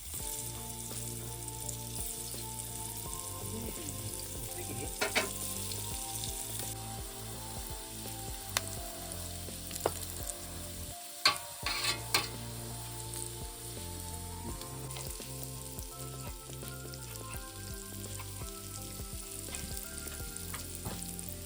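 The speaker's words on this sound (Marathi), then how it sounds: "आता शालो फ्राय करून घेऊया." Jackfruit slices shallow frying in oil in a pan, with a constant crackling sizzle up close, a few sharp clicks and scrapes of stirring, and a brief lull midway.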